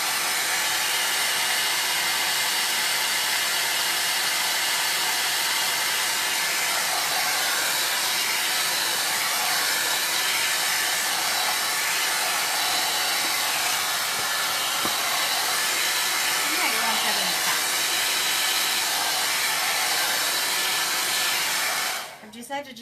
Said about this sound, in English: I'm going to dry my canvas off here so that we can get chalking.